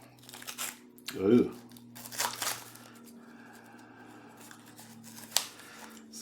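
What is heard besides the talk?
cutting through Limburger cheese wrapper label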